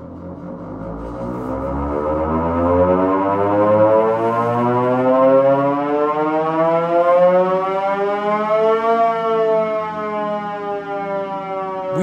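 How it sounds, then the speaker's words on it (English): A loud restored Soviet air raid siren in a Cold War fallout bunker winds up, its wailing tone climbing steadily in pitch, holding high, then beginning to droop, with no voices. "we test a restored and still working air raid siren for a couple of"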